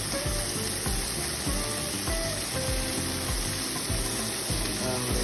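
Onions sizzle and fry in a hot pan, a steady, dense crackle that holds at an even level from start to finish without any talking.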